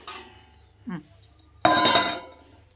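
Sprouted chickpeas are tipped into water in a cooking pot, giving a brief clattering splash near the end after a couple of faint clinks, with no one talking.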